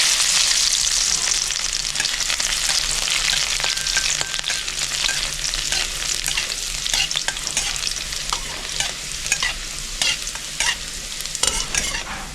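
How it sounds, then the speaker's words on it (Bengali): Dried red chillies, black cumin and crushed garlic fry in hot oil for a red spinach dish, giving a loud, steady sizzle with stirring scrapes throughout and no talking. "তেল গরম হয়ে গেছে, আমি 2টো শুকনো লঙ্কা চিড়ে দিয়ে দিচ্ছি।"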